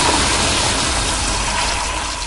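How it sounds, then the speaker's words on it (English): A toilet flushing in a movie restroom produces a loud, continuous rush of gushing water that fills the whole stretch, tapering only slightly toward the end, with no voices. "he had to trigger the flush at the same time the killer stood up"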